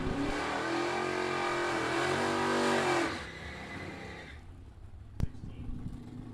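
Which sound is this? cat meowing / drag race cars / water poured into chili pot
drag race cars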